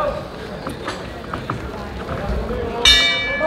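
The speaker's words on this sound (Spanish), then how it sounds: "Suena la campana." A boxing bell rings to start the fourth round of a fight: a single bright, ringing clang near the end that rises above crowd noise and ongoing commentary.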